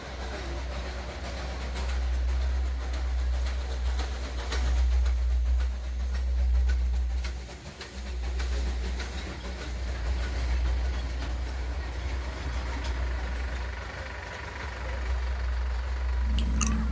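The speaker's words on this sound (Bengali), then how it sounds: "দার্জিলিংয়ের টয় ট্রেন।" Darjeeling toy train running on the rails near Batasia Loop, a steady low rumble and rattle of the wagons that holds for most of the stretch, loud and close, with a brief dip partway through.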